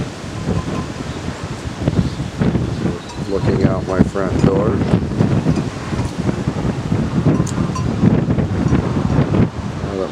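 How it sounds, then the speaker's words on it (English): Strong prairie wind gusts across an open farm on a sunny April day, a loud broad roar buffeting the microphone while someone speaks briefly over it. "Windy day."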